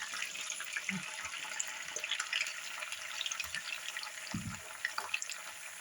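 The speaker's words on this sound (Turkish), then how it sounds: "Şöyle kavurmaya bırakıyorum." Sliced zucchini sautés in melted butter in a pan, giving a steady soft sizzling hiss with scattered crackles and a few low clinks of a utensil, and a voice speaks quietly over it.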